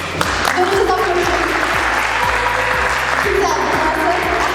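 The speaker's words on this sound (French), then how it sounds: "veuillez applaudir fort les représentants de l'équipe du pour" Audience at a school debate competition applauding the team arguing the affirmative side, steady dense clapping throughout, close and fairly loud, with a low rhythmic thumping underneath.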